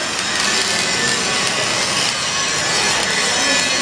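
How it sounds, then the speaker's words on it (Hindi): MIG welding on a reaper binder sounds as a steady, loud, dense crackling hiss close by, continuous and unbroken throughout with no talk over it. "ये दोस्तों आप लोग यहाँ पर लाइव देखो कि रीपर बाइंडर के अंदर भी मिग वेल्डिंग की जाती है।"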